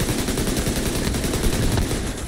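Sustained automatic gunfire in The Division 2 video game: a dense, unbroken stream of rapid shots, loud and steady throughout, with no voices.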